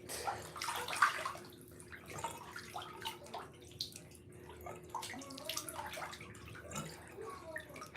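Water in a bathtub sloshes and drips close by as someone shifts in the bath, with soft splashes and gentle trickles recurring irregularly at low volume.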